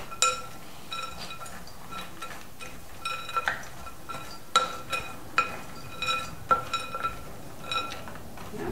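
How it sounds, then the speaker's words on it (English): Nuts being stirred together in a bowl, giving a run of light clinks and scraping knocks, close and fairly quiet, some taps sharper than others, with no talking. "we have our nuts in one bowl. I'm just going to mix them together."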